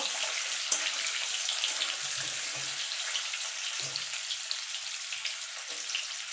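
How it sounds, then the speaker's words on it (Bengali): Boiled potato pieces fry in oil, browning, with a continuous soft crackling sizzle and small pops scattered through it, close and moderately quiet, with no voices. "এবার আলুগুলোকে লাল লাল করে ভেজে নেব।"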